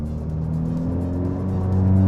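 A VW MK6 GTI fitted with a CTS turbo downpipe drones at low RPM, a steady low engine hum that swells slightly louder toward the end, close and continuous with no talk.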